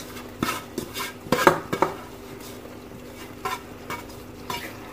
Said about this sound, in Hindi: ये गोभी है जो अब हम इसमें डालेंगे।